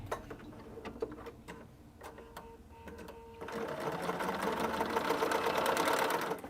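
Quilt strips are being sewn on a sewing machine in a steady, ticking whir that runs loud and continuous for the last few seconds, after quieter, intermittent clicks of setup.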